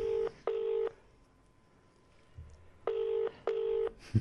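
A phone on speaker ringing out, two pairs of loud double-pulse ring tones separated by a quiet pause with faint background noise, no talk during the rings.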